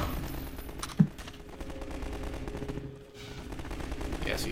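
Gunfire in a video game plays as a continuous rattle of shots under a dense soundscape, with one sharper crack standing out near the start and the firing steady at moderate level.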